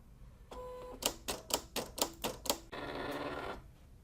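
Silhouette CAMEO cutting machine working on Siser EasyWeed Electric vinyl. A series of about six rhythmic mechanical pulses leads into a steady whirring run before it stops, recorded up close with no talking.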